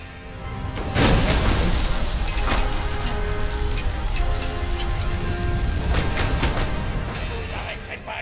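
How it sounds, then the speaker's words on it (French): Heavy booms and crashing blasts from defensive cannon fire in the video game LEGO Marvel Avengers, loud and rumbling, with mechanical clanks and a sustained roar layered through. "Activation des canons défensifs."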